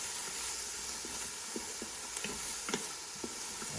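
Wooden spoon stirring and sautéing food in an Instant Pot, a steady soft sizzle and hiss with a few light scraping taps from the spoon, close and fairly quiet, no talking.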